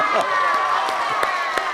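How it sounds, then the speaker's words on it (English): At an elementary school gathering, a lively crowd of children and adults cheers and claps, with shouting voices layered over scattered sharp claps in a continuous, close hubbub. "So we can give a big round of applause to Miss Lisa, Miss Heather, Miss Beth"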